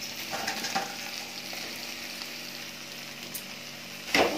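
Fried chicken being stirred and tossed in a hot pan for home-style salt and pepper chicken, a steady close sizzle with scraping spoon strokes and a brief louder clatter near the end.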